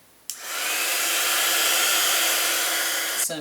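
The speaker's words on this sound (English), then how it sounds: "we're just going to force dry that with our heat gun" A heat gun force-dries textured rust-effect paint, switching on with a click and then blowing a loud, steady, close-up rushing whoosh for about three seconds before a second click as it shuts off.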